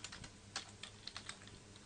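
Quiet typing on a computer keyboard at a terminal, a rapid run of soft, uneven key clicks heard alone.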